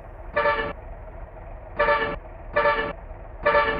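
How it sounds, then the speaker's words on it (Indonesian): Four short horn toots from a bus steering-wheel horn in Bus Simulator Indonesia, bright and loud, spaced unevenly over a steady low engine hum. "Untuk suara klakson yang di setirnya ini... Uh, agak-agak agak-agak dikenal di kuping gue gitu ya teman-teman"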